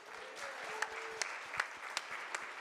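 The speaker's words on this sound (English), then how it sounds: "I think that deserves another round of applause." An audience claps steadily at an event marking fifteen years of an organization, a moderate, even round of applause with a few sharper claps standing out, heard from a little distance.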